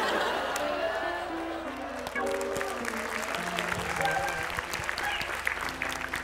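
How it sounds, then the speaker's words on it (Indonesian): Studio audience applause on an Indonesian comedy talk show, with loud, continuous clapping and some cheering under a speaking voice and bits of background music. "Anda tepuk tangan"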